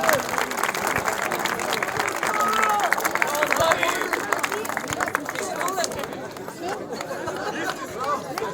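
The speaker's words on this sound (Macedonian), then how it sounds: "Замолам за еден голем аплауз за нив." Crowd applause and chatter for the second-place team at a local football tournament, sustained clapping mixed with cheering voices and babble, easing slightly toward the end.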